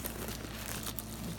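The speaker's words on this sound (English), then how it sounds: "It's stuffed with tissue paper." Tissue paper stuffing inside a new Gucci crossbody bag crinkles and rustles softly and steadily while it is unpacked close by, with no talking.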